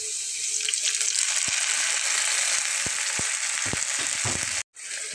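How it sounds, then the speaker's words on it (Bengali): Poppy seed paste with a little garlic fries in a pan as a steady, close sizzle, with a few soft scrapes and clinks of stirring and a brief cut near the end. "পোস্তটা একটু কষিয়ে দেব।"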